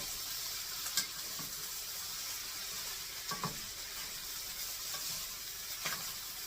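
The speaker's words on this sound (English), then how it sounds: "So I'm going to get that stirred into it." Food sizzling steadily in a frying pan as garlic powder is stirred in, with a few soft scrapes and clinks of the utensil against the pan over the continuous frying hiss.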